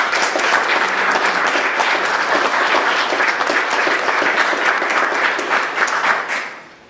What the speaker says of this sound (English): I think we need a round of applause for our police department and public works department